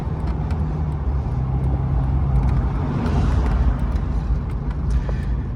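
An Alfa Romeo 115 Spider Veloce S4 classic sports car at speed, its engine a steady, loud drone with road and wind noise, continuous and close throughout.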